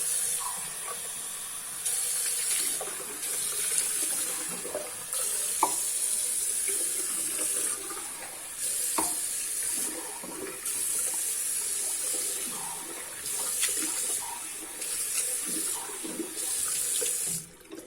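Tap water runs steadily into a kitchen sink, rinsing it after a citric acid cleaning, a continuous close splashing with small shifts as the stream moves around the basin.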